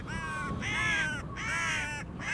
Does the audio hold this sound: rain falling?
no